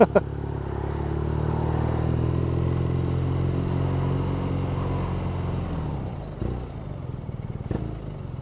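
A 2014 BMW R nineT boxer twin motorcycle engine idles with a deep, loud, steady thrum, then is blipped near the end with a couple of short throttle revs, close by and alone.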